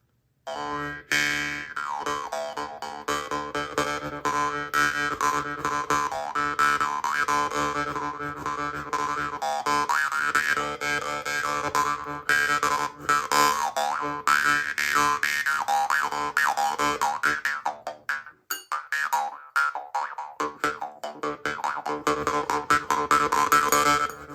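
Mongolian metal jew's harp played with hard plucks, a buzzy twanging drone with rapid rhythmic strikes and shifting overtones throughout, close and continuous with one brief lull near the end.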